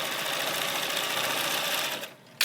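A sewing machine back stitches through scrunchie fabric with a steady, close, rapid whir that runs for about two seconds, then slows and stops, with a brief bump at the end.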